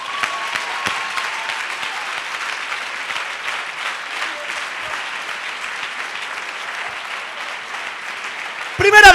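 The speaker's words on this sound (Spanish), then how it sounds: "Pues dale un aplauso a Dios." Sustained applause from a large indoor church congregation, steady and dense throughout, with a brief louder burst of voices right at the end.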